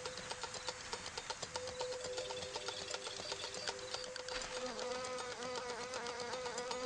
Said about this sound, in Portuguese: Elas batem as asas muito mais vezes por segundo do que muitos outros insetos parecidos.